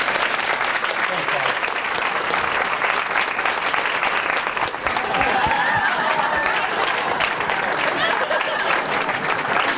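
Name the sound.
audience applause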